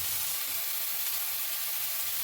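Spice paste for egg curry sizzles and fries in hot oil, a steady close, bright hiss that stays even throughout with no voices.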